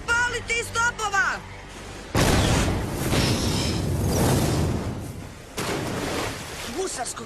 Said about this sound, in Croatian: Opaliti iz topova!